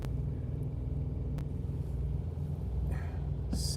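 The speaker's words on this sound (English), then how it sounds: "Look at that truck." A truck drives past near a terminal, a loud, steady low rumble that holds throughout with a slight swell near the end and no talking.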